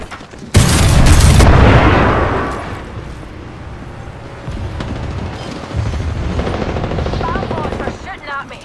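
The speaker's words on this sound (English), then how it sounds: "Grenade!" Video game combat: a loud explosion bursts up front, then sustained gunfire and battle noise rumble on, with a voice calling out briefly.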